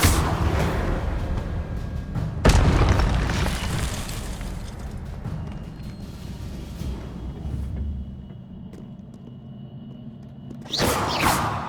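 A Confringo fire spell goes off in the video game Hogwarts Legacy as a loud, sudden blast with a rushing whoosh. A rumbling tail fades over several seconds, and a second burst flares near the end.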